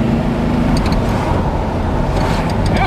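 A 1972 Chevrolet Corvette engine idles steadily, a continuous low rumble close by with a faint background whine and a few brief higher clinks.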